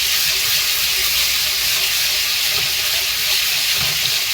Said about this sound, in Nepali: यसलाई हालेर यसलाई चाहिँ फ्राई गर्न लागेको